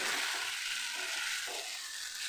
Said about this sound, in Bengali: মশলাটার সাথে আলুগুলো দিয়ে দিয়েছি আলুগুলো দিয়ে একটু ভাজা ভাজা করে নেবো